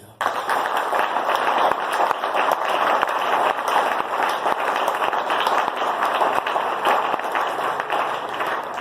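A church congregation applauds to acclaim the Lord, a sustained, dense wash of clapping from many hands that stays loud and even the whole time.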